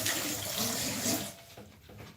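Tap water runs steadily into a sink or container, loud and close for over a second before cutting off, leaving a few faint clunks and handling noises afterward.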